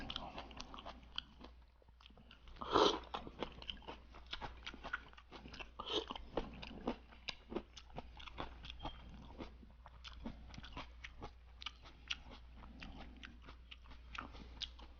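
Bok choy is bitten and chewed up close, with a sharp crunchy bite followed by steady wet, crisp mastication repeating throughout, fairly quiet and with no talking.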